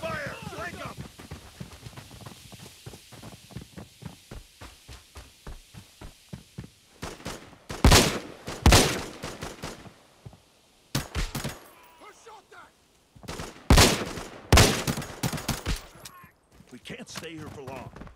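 Gunfire during an ambush firefight in the video game Arena Breakout: a rapid burst of automatic shots, then several loud separate volleys and bangs with quiet gaps between.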